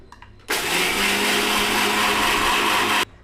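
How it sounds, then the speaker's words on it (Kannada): A mixer grinder pulverizing dry moong dal into powder starts abruptly after a brief pause, running as a loud, steady, high-pitched whirring roar for about two and a half seconds before cutting off sharply, with no talking. "ಹೆಸ್ರು ಬೇಳೆ ಏನಿದೆ ಇದನ್ನು ಒಂದು ಮಿಕ್ಸಿ ಜಾರ್ಗೆ ಹಾಕೊಂಬಿಡಿ"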